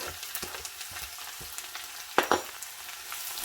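Chopped garlic and ginger fry in hot oil while being stirred, a steady sizzle with a couple of sharper scraping bursts from the stirring, close and without any voices.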